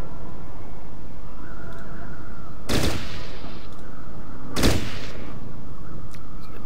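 Gunfire in Fallout Tactics: two loud, sharp shots spaced about two seconds apart, each a sudden blast that quickly dies away, over a steady background hum.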